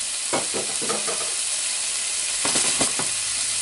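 Drained ground meat sizzles steadily in a pan while being stirred, a close broadband hiss broken by scraping strokes near the start and again toward the end, with no talk.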